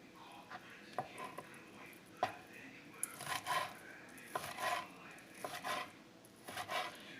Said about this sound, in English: all I'm doing is slicing this up, cubing it up for it to go into my rice bowl